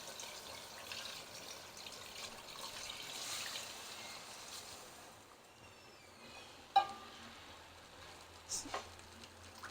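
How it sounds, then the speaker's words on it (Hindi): A soft, steady trickle of about a litre of water splashing into a cooking pot, faint and continuous, with a couple of small clinks near the end. "1 लीटर में इसमें पानी डाल रही हूँ।"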